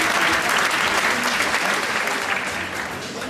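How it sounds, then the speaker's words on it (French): An audience at a French school class-naming ceremony breaks into dense, sustained applause after the official photo, a steady wash of clapping from many hands that fades slightly toward the end. "Applaudissements s'il vous plaît."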